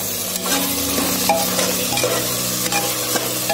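Turmeric frying with tomato and onion for a spicy taro curry, a loud, close sizzle with repeated stirring scrapes and soft knocks of a spoon against the pan, no voices.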